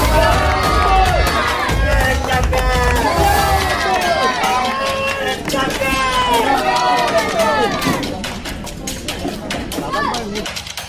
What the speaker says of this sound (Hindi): जोरदार तालियों से स्वागत करिए।